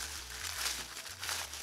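Thin sheets of tissue paper being lifted one by one from a folded stack for a pom pom, giving a short, soft crinkling rustle at close range.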